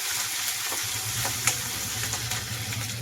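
A ground paste of green chilli, garlic and cumin fries in a pan, giving a steady close sizzle with a brief clink partway through.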